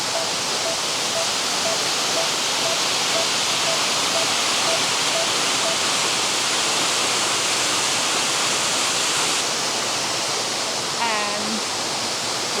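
Everton waterfall, a small falls at the end of a 2.6-kilometre bush walk, pours in a steady, loud, dense rushing roar, with faint bird chirps and a brief voice near the end.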